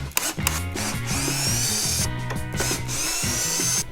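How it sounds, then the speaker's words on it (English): Power drill driving screws from the back into a wooden drawer front on a drop zone table, a close whirring motor with pitch shifting as screws bite, brief pauses between bursts, no speech. "I'm going to go ahead and secure it from the back with some screws."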